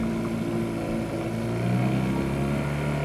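A borrowed outboard motor on a small boat in a North Sea harbour runs steadily and close, a continuous droning hum with no talk over it.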